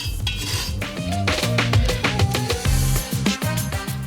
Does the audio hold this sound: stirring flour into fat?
yes